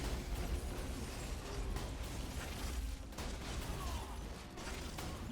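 Gunfire in the video game Borderlands: The Pre-Sequel rattles on continuously as dense, overlapping bursts, with mechanical clanks and explosive pops mixed into a loud, busy wall of sound.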